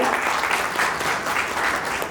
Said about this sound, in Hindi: सो प्लीज इनके लिए जोरदार वाली तालियां हो जाए